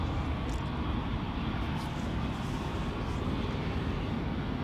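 A KLM Embraer E2 jet departing Amsterdam Schiphol gives a steady, loud, broadband engine roar that holds even and continuous throughout, with no voices.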